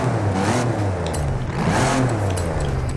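A Toyota fitted with the Lexus LFA V10 engine revs in the Forza Horizon 5 racing game, a loud, continuous engine note rising and falling over three seconds with no talk.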